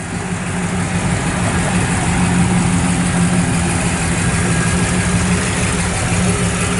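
A 1966 Pontiac GTO's V8 engine idles steadily through dual Flowmaster exhausts with a deep, throaty rumble, close and loud, holding an even note throughout without revving.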